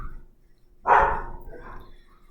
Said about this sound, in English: And my dog is going crazy.